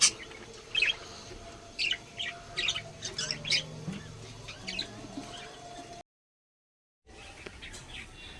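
Nesting birds sitting in clay pots chirp in short, scattered bursts over a low background hum, moderately close and faint, followed by a sudden silent gap and then quiet ambience.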